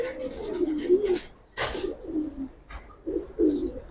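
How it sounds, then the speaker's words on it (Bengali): Pigeons coo at a pigeon market in a series of close, rolling, throaty coos separated by short pauses, with a brief rustle partway through. "এটাও কিন্তু বুট ফুটের কাজল পট্টির কবুতর।"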